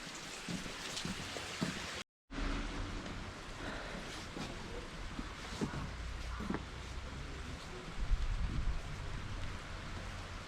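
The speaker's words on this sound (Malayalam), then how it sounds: "ഇപ്പോൾ മഴ കിട്ടിയിട്ടുണ്ട്" Steady rain patters down in a continuous hiss, broken by a brief silence near the start, then carries on evenly with occasional heavier drops.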